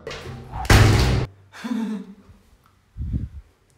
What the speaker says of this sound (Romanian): închide ușa!